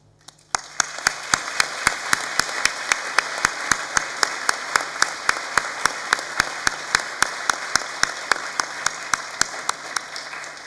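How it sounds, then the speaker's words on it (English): Graduation ceremony audience for Newcastle College art, design, music and performance graduates gives sustained applause under a sharp, evenly spaced rhythmic clap or beat repeating roughly every quarter second. "please join me in applauding all the people who have helped you in your achievement"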